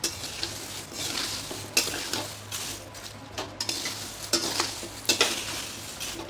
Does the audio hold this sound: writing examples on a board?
no